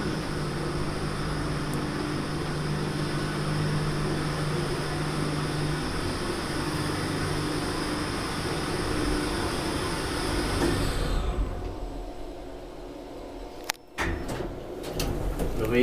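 A 1999 Schindler traction elevator in a building in Tikkurila, Vantaa, rides with a steady low mechanical rumble and whine, then slows and stops with a few clunks near the end.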